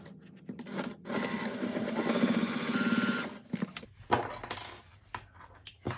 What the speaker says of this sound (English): I'm going to sew here down to this edge, folding over and stitching.